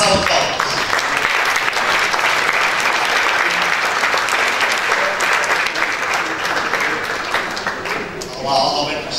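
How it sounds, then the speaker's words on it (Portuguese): Audience applause at an IEFP regional panel event in Portugal, dense steady clapping from a large crowd filling the room, holding strong for about nine seconds before easing slightly near the end. "Alberto Costa, uma salva de palmas."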